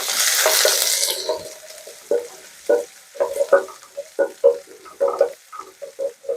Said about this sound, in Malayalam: അപ്പോൾ എണ്ണ ചൂടായിട്ട് വരുന്ന സമയത്ത് നമുക്ക് ഇതിനകത്തോട്ട് 1/4 ടീസ്പൂണ് കടുക് ഇട്ടൊന്ന് പൊട്ടിക്കുക.